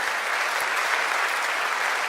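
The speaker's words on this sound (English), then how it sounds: "So please, a huge applause." A large audience at the NG-DE Berlin 2025 tech conference applauds steadily, a dense, even wash of many hands clapping that carries on loudly for the whole moment without pause.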